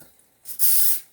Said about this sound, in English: pan spray